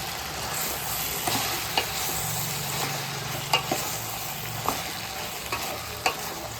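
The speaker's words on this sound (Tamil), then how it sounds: "முருங்கைக்காய், வெண்டைக்காய், அவரைக்காய், உருளைக்கிழங்கு, இது எல்லாத்தையும் போட்டு நல்லா வதக்கி எடுத்துக்கலாம்" Drumstick, okra, beans and potato sauté in coconut oil with a constant close sizzle, punctuated by occasional sharp spoon knocks against the pan as the vegetables are stirred; no voices.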